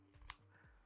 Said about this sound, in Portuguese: vou cortar na diagonal